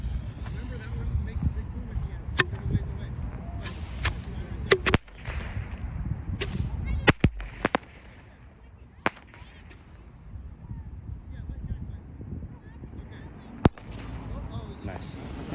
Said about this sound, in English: we got all these bottle rockets